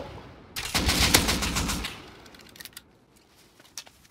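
AK rifle in the game Rust fires a loud sustained full-auto burst of about a second and a half, followed by scattered fainter distant shots and clicks.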